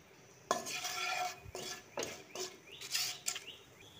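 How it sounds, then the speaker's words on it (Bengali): A spoon stirs hing, bay leaves, whole cardamom and cinnamon in a little oil in a pan, giving quiet scraping strokes and light metallic clinks over a faint sizzle, close up. "একটু তেলের মধ্যে নেড়ে ছেড়ে নেব।"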